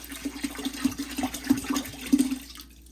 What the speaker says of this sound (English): Now you're going to add a whole 10 ounces of Kikkoman soy sauce.